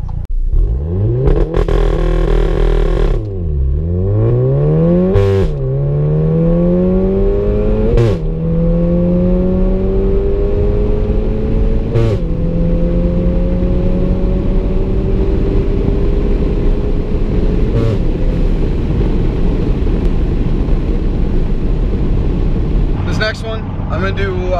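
A turbocharged car doing a 5,000 RPM launch control pull, loud close engine revving and climbing through several gear changes with rising and falling pitch, turbo whoosh and brief clattering shifts, all heard alone without talking.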